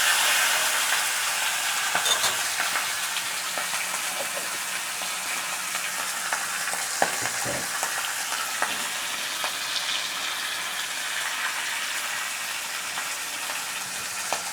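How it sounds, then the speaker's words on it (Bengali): A fish head fries in hot oil in a wok, giving a loud, dense, continuous sizzling hiss that holds steady throughout with small crackles and pops. "আমি মাথাটা আগে ভেজে নিচ্ছি"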